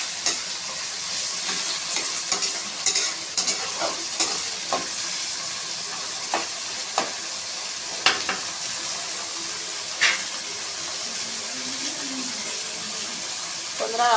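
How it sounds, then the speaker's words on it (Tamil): Hot oil spatters and crackles around brinjal and sundakkai frying for kuzhambu, a continuous close sizzle broken by sharp pops and utensil clicks, with faint talk in the background. "எண்ணெய் தெரிக்குது."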